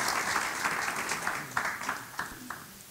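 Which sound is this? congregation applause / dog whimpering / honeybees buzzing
congregation applause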